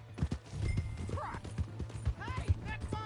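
Horse hooves clip-clop in the video game Red Dead Redemption 2, irregular close thuds over a steady low hum, with a horse whinnying and voices speaking over the action.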